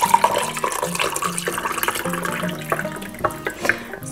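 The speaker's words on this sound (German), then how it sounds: "Und deshalb gebe ich jetzt hier ein bisschen heißes Wasser drauf." Hot water pours onto a spoonful of spicy mixture in a glass, a close, steady trickle and splash lasting a few seconds with no talk.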